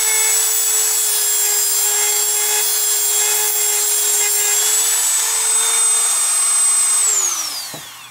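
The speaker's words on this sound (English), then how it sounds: "I'm going to cut some notches just along the threads, perpendicular to the threads" A cutting disc grinds notches across the threads of a bicycle bottom bracket cup, a steady high whine that holds for about seven seconds and then winds down as the tool is switched off.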